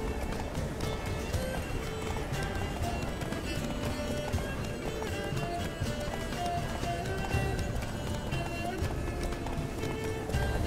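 Roach, Geralt's horse in The Witcher 3 (Wine DLC), gallops in steady rapid hoofbeats that run continuously under a dense, loud game soundscape.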